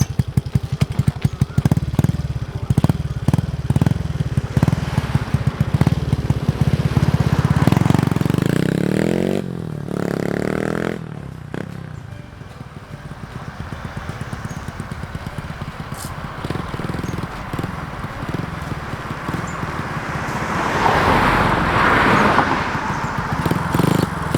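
A Honda Wave 100 motorcycle ridden with its stock control box, the small engine revving and pulling away, then fading to a quieter stretch before building again nearby.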